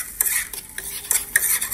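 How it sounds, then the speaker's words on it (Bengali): Vegetable pasta being stirred in a pan with a spoon, sharp scraping strokes repeating in a quick irregular rhythm over a soft sizzle, close and without talk. "এখন পাস্তাগুলোর সাথে সবজিগুলো খুব ভালো করে মিশিয়ে নেব।"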